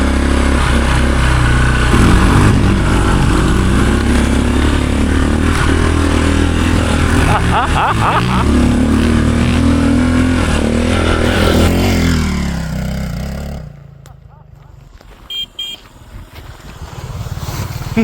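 A 50-year-old Honda enduro motorcycle engine revs hard and loud, a steady roaring drone with rising and falling pitch that cuts off abruptly near the end, leaving brief quieter engine sputters before it picks up again.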